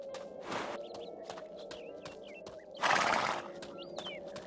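A horse in the video game Two Worlds, with a whinny and scattered hoof clip-clops over steady game background sound, a louder broadband burst near the end and faint bird chirps.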